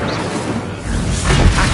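Incendio fire spell cast in a Hogwarts game, a short whooshing burst of flame followed by a deeper booming flare, loud and close.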